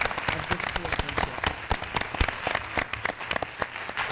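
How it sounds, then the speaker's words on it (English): Applause at a school board meeting for good sportsmanship award winners, a close, crisp round of individual claps in an uneven rhythm, sustained without talk. "let's have another round of applause for these wonderful examples of good sportsmanship"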